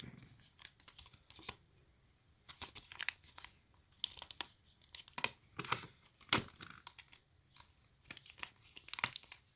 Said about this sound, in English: And tape it up.